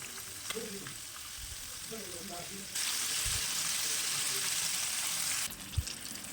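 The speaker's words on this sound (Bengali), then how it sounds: "আর এবার আমি চিকেনগুলো উল্টে দেবো" Chicken pieces are turned over while frying in oil in a pan. A steady crackle swells into a louder, hissing burst for a few seconds, then settles back amid light knocks.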